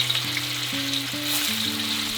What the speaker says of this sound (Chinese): 油里面少来点盐，把豆腐里面的水分逼出来，